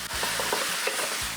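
Squid bulgogi stir-fried in a coated nonstick pan, giving a steady close sizzle under a few soft scraping stirs spaced through the sound.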